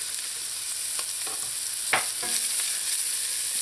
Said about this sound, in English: Now that the onion has started to soften, I'm going to add in some chopped garlic.